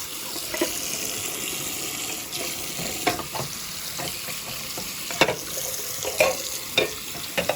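Parts from a Simplex 4050-80 being restored are rinsed in a sink under running water, with a steady hiss of flow and occasional knocks and clatters as pieces are moved about.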